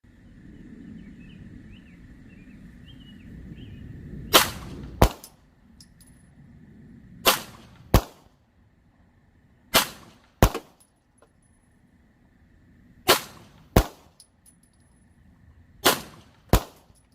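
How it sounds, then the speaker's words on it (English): A pistol fitted with a Cyelee Ghost HDG red dot optic fires shots in quick pairs spaced a few seconds apart, each a sharp, loud crack. The shooting is outdoors, with faint birds and background rumble between the pairs. "shooting as fast as I could get it back on the bullseye"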